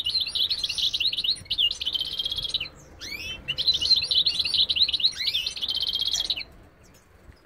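Small bird singing while held in the hand, bright rapid high-pitched trilling chirps in two long close phrases separated by a brief pause, with no talk.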